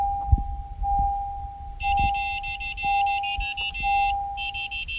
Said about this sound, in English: hear the beeping sound indicating programming is successful